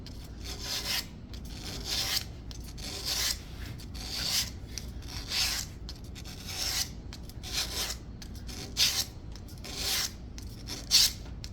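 A wooden chair being sculpted is hand-sanded with 80 grit sandpaper, giving rhythmic back-and-forth rasping strokes, close and fairly loud, repeating about every second with brief pauses between passes.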